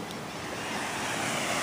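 Ocean surf at Seaside Heights beach on the New Jersey shore, a steady broadband wash of waves with some wind, even and continuous with no voices.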